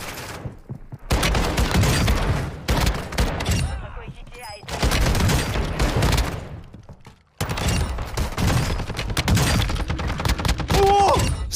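Loud gunfire from the Call of Duty Warzone video game, including ISO and KV Broadside weapons, comes in dense rapid bursts with booming hits, broken by short quiet gaps across about eleven seconds.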